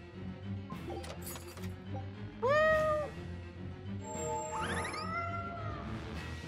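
In Tales of Berseria, a cat gives a sharp rising meow amid game music and effects, followed by a chorus of bright chiming meows as cat souls are collected.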